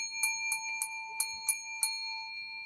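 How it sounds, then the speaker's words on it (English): A small heart bell dinged six times in a quick uneven series, each bright metallic strike ringing with clear sustained tones, close and alone. "Hold on, I need to ding the heart bell."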